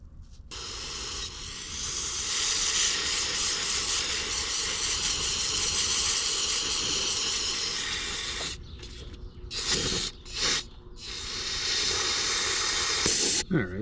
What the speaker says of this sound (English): This thing needs a good steam cleaning.